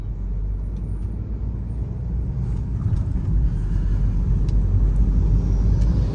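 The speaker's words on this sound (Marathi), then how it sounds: "हायवेवरती बऱ्यापैकी ट्रॅफिक आहे." Continuous low rumble of cars, buses and trucks on the Pune-Bangalore highway, a steady, fairly loud roar of passing traffic with faint higher whines and hisses.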